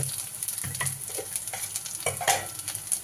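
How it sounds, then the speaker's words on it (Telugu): Marinated chicken frying in a pan with onions and ginger-garlic paste, a steady sizzle with occasional stirring scrapes and clatters, close and continuous, no voices. "ఇప్పుడు ఇందులో చికెన్ వేసేసుకుందాం మనం."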